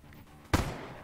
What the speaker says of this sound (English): Oh, it's already shooting.